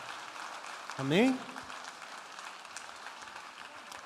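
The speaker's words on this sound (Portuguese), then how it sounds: "Vamos aplaudir ao Senhor" A church congregation applauds steadily as a dense, even patter throughout, while a voice briefly calls out over it early on.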